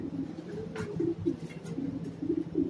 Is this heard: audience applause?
no